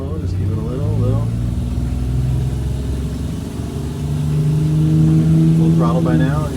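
A vintage Eagle bus engine drones and slowly builds under acceleration on the highway, a steady low mechanical rumble with people talking over it inside the cabin.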